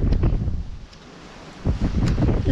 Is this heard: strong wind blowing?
yes